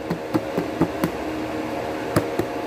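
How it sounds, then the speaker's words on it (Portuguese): Homemade shampoo with ginger is beaten by hand to mix it: a series of soft, irregular knocks and taps against the container, close by, over a low background hum. "Tô batendo assim, ó, que é pra misturar bem."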